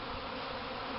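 Honeybee swarm in a back yard, a dense steady buzzing drone that fills the brief moment, close and continuous with no voices.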